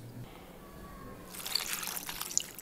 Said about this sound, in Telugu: దీంట్లో తగిన నీళ్ళు పోసుకొని దీన్ని ఉడకబెట్టుకుందాం